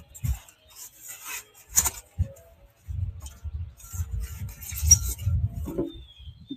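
Someone opens a cardboard box holding a cork art piece. Close scraping and rubbing of cardboard comes in short bursts with small papery rustles and light knocks.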